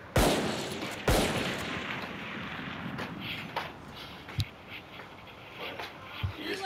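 Rapid weapon fire in the video game Valorant, a couple of sharp loud bursts near the start followed by scattered fainter shots and impacts against a busy game background.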